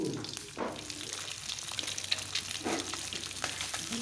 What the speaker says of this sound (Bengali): এখন ডিমগুলো আমি ভেজে নেব।